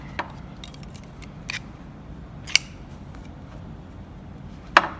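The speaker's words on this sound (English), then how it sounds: "And then we're going to cut our working yarn." Scissors snip through knitting yarn with a few sharp, close clicks spread over a few seconds against a quiet room background.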